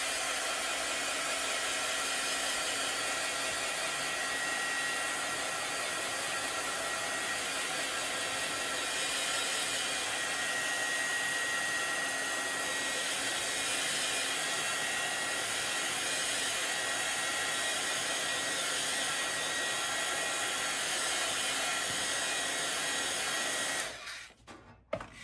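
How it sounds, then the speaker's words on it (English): A heat gun blowing hot air over a collage mug, a loud continuous hiss that holds steady for over twenty seconds before cutting off near the end. "now let's just take this heat gun and just add a little bit of heat to this"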